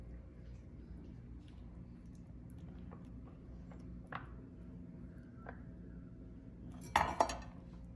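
A spoon mixing cabbage salad in a bowl, faint scattered clinks and scrapes against the dish, ending in a brief louder clatter, with quiet room hum beneath.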